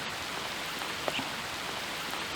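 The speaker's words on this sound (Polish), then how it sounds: "Codziennie jest burza i ulewa, a dziś pada od południa" Heavy rain pours down during a stormy downpour in the Polish countryside, a steady dense hiss of drops with a few brief nearer splashes, continuous and even throughout with no talk.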